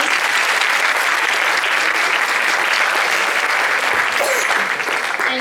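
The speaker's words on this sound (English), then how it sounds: "Please give another round of applause" Audience at a CHEMUN 2015 conference gives a sustained round of applause, dense crowd clapping at a steady loud level with a faint voice briefly audible near the end.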